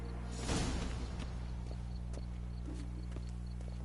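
Hooves of Geralt's horse Roach clop in The Witcher 3, a faint, sparse series of hoof strikes with a brief whooshing swell early on, over a steady low background hum.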